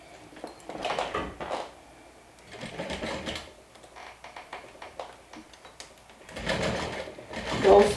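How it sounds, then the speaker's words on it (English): A sewing machine stitches a 3/8 inch seam around a thick, multi-layered crossbody bag in several short bursts of rapid whirring, broken by quiet pauses. "I'm going to go ahead and stitch with a 3/8 inch seam allowance all the way around."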